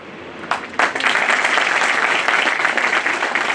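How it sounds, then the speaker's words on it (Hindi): An audience bursts into loud, sustained applause at a ceremony, the clapping swelling quickly after a few early claps and holding steady, dense and close, with no talking. "आज ताली आप अपने लिए बजा रहे हो"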